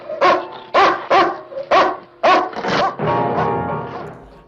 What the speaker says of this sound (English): Is he gonna like sick his own dog on him?